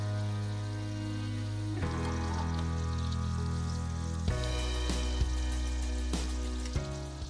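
A beef steak patty for a homemade burger sizzles loudly and steadily on a hot griddle, a dense continuous frying hiss with occasional pops and no talking.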